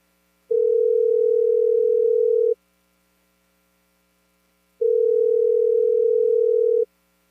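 Two steady, unbroken telephone dial tones, each lasting about two seconds with a pause between, alone and loud against a faint background hum.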